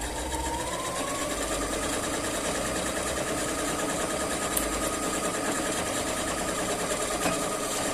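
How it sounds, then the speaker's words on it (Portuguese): A sewing machine runs steadily, stitching a patchwork seam with backstitching at start and end, producing a continuous fast mechanical whir and needle chatter, close and unbroken throughout. "eu vou costurar um pezinho de máquina aqui"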